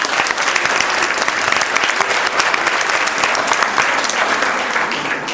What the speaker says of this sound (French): On peut les applaudir très fort aussi.